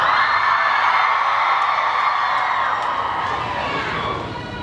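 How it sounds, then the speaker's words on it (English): A live audience at a John Green event for The Fault in Our Stars cast cheers, whoops and shouts continuously. The crowd noise stays loud and dense throughout, easing slightly near the end. "You guys should not feel weird about cheering for Esther"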